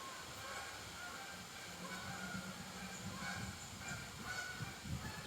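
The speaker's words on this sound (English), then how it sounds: "Here come the geese." Geese honking as they fly over a wooded hiking trail outdoors, a faint, distant flock calling in scattered bursts over a steady background rumble.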